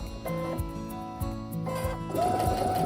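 A Baby Lock Soprano sewing machine runs steadily, its motor hum joined by rapid repeating needle clicks that speed up toward the end as the pedal is pressed harder, with no talking over it.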